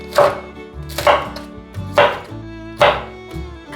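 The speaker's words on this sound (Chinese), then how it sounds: "把青江菜切碎。 换个方向切更碎一点。" A knife chops bok choy stems on a board in four loud, close, evenly spaced strikes, each with a sharp knock and short decay, with no speech.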